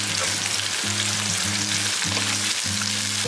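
Onions and ginger garlic paste sizzle steadily in a hot pan, a dense continuous frying hiss close by with a faint tonal hum beneath it and no talking.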